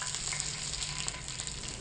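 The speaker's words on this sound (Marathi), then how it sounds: "चला आता फोडणी देऊया जिऱ्यासोबत मोहरी" Cumin and mustard seeds temper in hot oil for cucumber poha, producing a steady close sizzle with small pops and crackles throughout.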